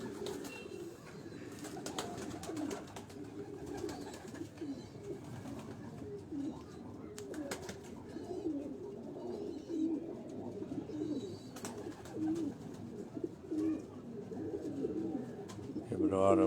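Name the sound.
pigeons cooing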